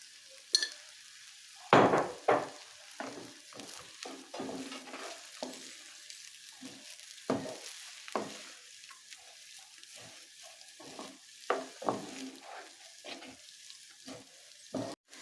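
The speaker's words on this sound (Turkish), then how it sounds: "şöyle bir 4-5 dakika güzelce pilavımızı kavurdum" Rice for Ezogelin pilaf sautés in a pan with a low, continuous sizzle, broken by frequent irregular scrapes and knocks of the stirring spoon, heard close up with no voices.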